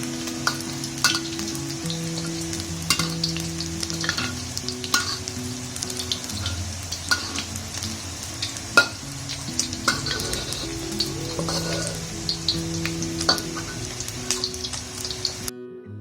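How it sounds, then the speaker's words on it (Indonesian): Beef roulade frying in a hot pan, a steady close sizzle and crackle with occasional stirring clicks and scrapes running throughout, no talking. "Penggorengan ini menggunakan konsep frying atau penggorengan dengan dry heat cooking."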